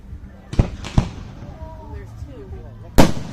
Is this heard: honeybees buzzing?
no